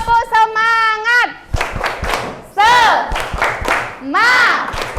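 A class claps the tepuk semangat rhythm in quick patterned bursts, mixed with loud chanting voices, close and lively.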